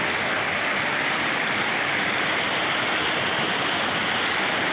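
A flooded creek after heavy rain rushes steadily in a broad, constant hiss, like a fast stream flowing close by, with no talking.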